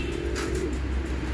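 A blue bar pigeon coos on a rooftop, a soft, low, steady murmur held through the whole moment, close and continuous, with no voices over it.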